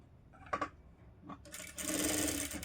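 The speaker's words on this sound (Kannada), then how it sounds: "ಇವಾಗ ಇನ್ನೊಂದು ಸ್ಟಿಚ್ ಹಾಕೋತೀನಿ ಹೊಲಿಸ್ಕೊಂಡು" A sewing machine stitches the side seam of a blouse, starting after a few soft handling taps with a close, continuous whirring run of stitches that lasts about a second.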